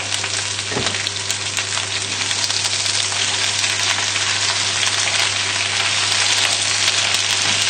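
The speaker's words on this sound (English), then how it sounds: "pop the spinach straight in. You just give that a quick move around with your tongs" Spinach frying in a hot pan while tongs move it around, a dense continuous sizzle with soft crackles, steady and close throughout.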